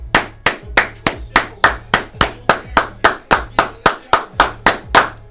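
Eighteen slow, loud claps in a steady rhythm for Wyatt Vaughn, each one sharp and even, with no talk between them.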